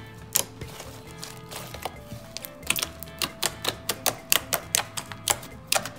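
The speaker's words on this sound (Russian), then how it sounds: "Блин, он невероятно круто кликает." Crisp, rapid clicking and popping repeats in a quick irregular rhythm, close by, as thick slime is squeezed and worked with the hands.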